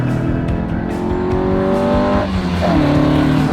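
A loud Alfa Romeo 75 race car engine roars close by on a track with strong intake and exhaust noise, the pitch climbing and shifting as it revs.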